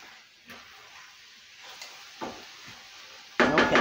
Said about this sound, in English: And I just keep stirring them until they cook up real good.